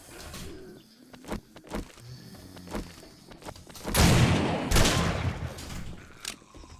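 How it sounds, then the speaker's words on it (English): Shotgun blasts in a horror video game, a few sharp broadband bursts spread across several seconds, the loudest pair clustered near the middle, with no talk over them. "Try and just use the shotgun here."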